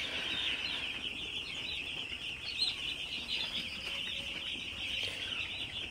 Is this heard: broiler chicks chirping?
yes